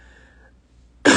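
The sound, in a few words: cough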